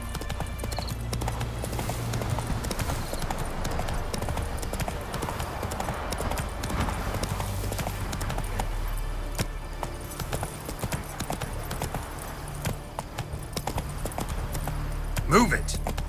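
Roach the horse galloping in The Witcher 3, a fast steady clip-clop of hooves running continuously under game ambience, with a brief whinny near the end and a voice speaking over it.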